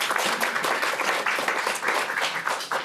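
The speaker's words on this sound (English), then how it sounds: "Round of applause for the I's." Conference audience breaking into applause, dense continuous clapping from many hands close by, holding steady for a few seconds without talk.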